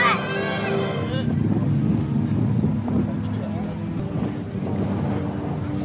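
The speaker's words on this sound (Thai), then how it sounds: "ลมโคตรแรงนะจังหวะนี" Strong wind buffets the microphone in a steady, loud rumble throughout, at an outdoor Vijitr 5 Phak festival on Ko Loi island in Si Racha.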